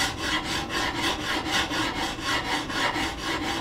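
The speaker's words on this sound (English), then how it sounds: "set that stone on that bevel and run this way" Coarse sharpening stone rubbed back and forth along the bevel of a steel hewing hatchet, a steady rhythmic scraping of even strokes, close and alone.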